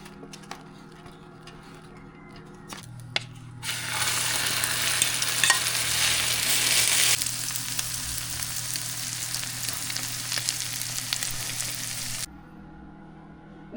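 A cabbage omelette fries in a pan, its sizzle rising into a loud hiss for several seconds before falling back to a quieter crackle, with faint clicks and knocks around it.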